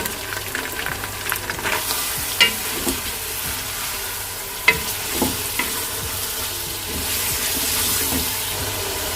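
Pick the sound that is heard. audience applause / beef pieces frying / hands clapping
beef pieces frying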